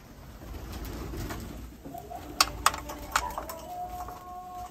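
Tumbler pigeons coo softly in a loft, a few low calls rising over steady background hiss, with some sharper clicks and faint squeaks near the end.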